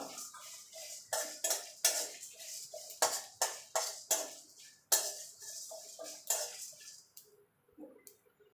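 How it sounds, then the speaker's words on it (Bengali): Coriander seeds, whole cumin and four dried chillies being dry-roasted in a pan, sharp irregular scraping and clattering strokes of a spatula against the metal pan in bursts, close up, with brief quiet gaps and no talking. "তার জন্য এখানে নিয়েছি ধনে, গোটা জিরে আর 4টে শুকনো লঙ্কা। এগুলো শুকনো খোলায় আমি ভেজে নেব।"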